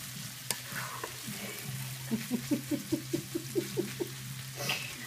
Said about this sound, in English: you start really having to scrape the bottoms